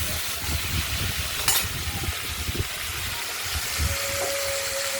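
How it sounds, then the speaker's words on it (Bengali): Thin pumpkin strips fry in mustard oil with mustard-seed tempering in a kadai, a steady bright sizzle with low scraping thumps as they are stirred, close by. "আর না তুলে আবার নেড়ে দিচ্ছি।"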